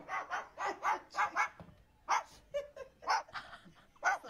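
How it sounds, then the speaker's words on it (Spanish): An animal that is not a dog barks just like one, giving close, sharp barks in quick bursts with short pauses between them. "¿Cómo empieza a ladrar como un perro?"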